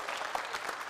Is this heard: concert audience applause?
yes